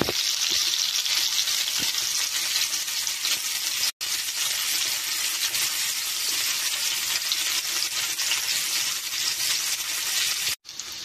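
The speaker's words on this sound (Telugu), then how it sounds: "కాకరకాయలు వేగుతున్నాయండి, అలా వేగాలి." Bitter gourd frying in a little oil, a steady, loud, close sizzle that runs on without a break apart from two brief cut-outs.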